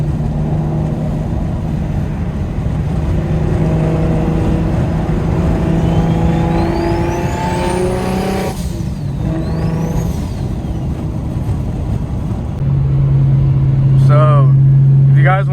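A DocRace single-turbo car engine and exhaust pull through rising revs while driving, tones climbing then dropping with turbo whistle, ending in a higher steady drone and a brief sharp squeal.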